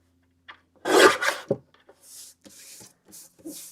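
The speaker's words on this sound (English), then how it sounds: "I'm going to trim off just like a sliver of cardstock off each edge" A paper trimmer slices thin slivers off the edges of cardstock, giving a close, scratchy rasp and then several softer swishing strokes of the blade sliding along.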